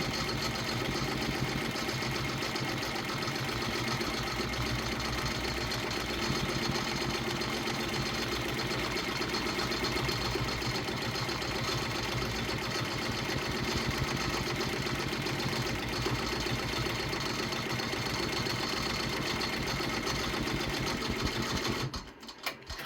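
A Redline 1501 embroidery machine stitches around an applique on a child's shirt, a steady, loud mechanical whir with a fast even rhythm running continuously and close up, stopping abruptly near the end.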